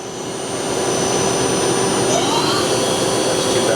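A 2008 Doosan Puma 2000SY multi-axis CNC turning center with an 8-inch chuck runs its main spindle at about 1000 RPM, giving a loud, steady whirring whine that swells in the first second and then holds even, with no talk.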